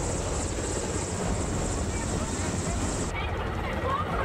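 Air Force rescue helicopter flying over floodwaters, a steady loud rotor drone filling the whole stretch with no letup.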